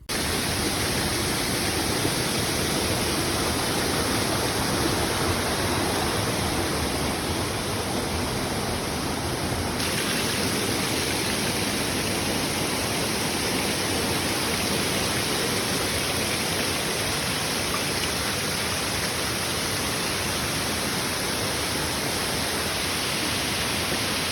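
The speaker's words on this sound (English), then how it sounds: "until you arrive at the best part, the Gio waterfall." A loud, constant roar of rushing water from the nearby Gio waterfall in Phong Nha, Vietnam, dense and unbroken throughout, with no voices.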